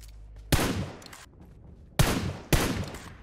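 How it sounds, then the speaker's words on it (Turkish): Gunfire in the mobile battle-royale game PUBG Mobile: three sharp, loud shots at roughly even spacing, each ringing out with a short decaying tail, with no talk over them. "Bizim silah sesimize bakacaklar dayanamayacaklar."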